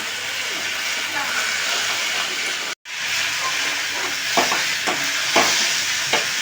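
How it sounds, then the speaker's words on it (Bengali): Malabar spinach greens fry in a small wok, a constant close sizzle and hiss with a brief dropout midway, then several crisp spatula scrapes and stirs, with no voices. "শাকটা ভাজা ভাজা হয়ে যাচ্ছে"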